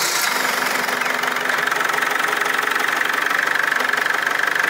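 A Holden car with a 6T40 automatic transmission idles after a transmission fluid refill, giving a steady, even mid-pitched engine hum with a faint knock, close by and continuous, with no talk.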